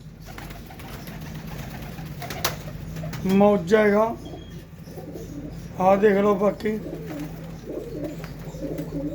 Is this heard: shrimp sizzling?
no